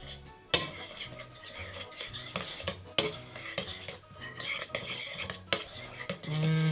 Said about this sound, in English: Pour in the boiling water and mix into a thick paste.